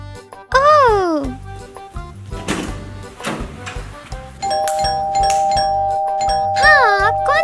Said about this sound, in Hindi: हाँ, अब कौन घंटी बजा रहा है?